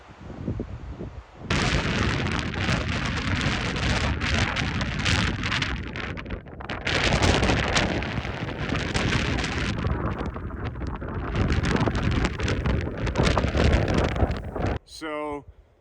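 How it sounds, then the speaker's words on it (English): Strong gusting wind roars across the open dunes at Great Sand Dunes, buffeting the microphone with loud broadband rumble and hiss that rises and falls in surges for most of the clip before cutting off abruptly near the end. "you can hear the wind right now"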